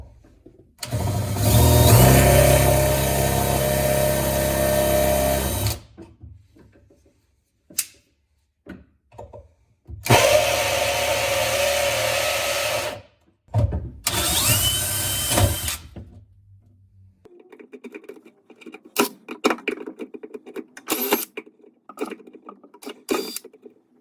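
A power drill bores into a porcelain sink near the strainer in short bursts: a long loud whine, pauses, then two more runs and a few brief stuttering pulses, with quiet gaps between.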